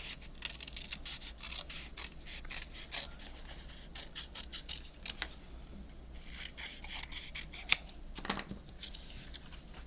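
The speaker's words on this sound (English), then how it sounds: "I'm going to cut out some of our plants here to go with that" Paper plant shapes being cut out with scissors, repeated crisp snipping and sliding cuts in irregular bursts, close and moderately quiet, with a sharp click near the end and no talking.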